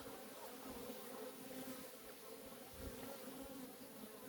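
A steady, moderately loud hum of many honey bees flying around their beehive on a sunny winter cleansing flight, a continuous outdoor buzz with no voices.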